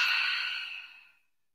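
A single slow, deep exhale during a yoga breathing flow, a soft airy rush that is steady at first and then tapers away into silence, heard close and alone.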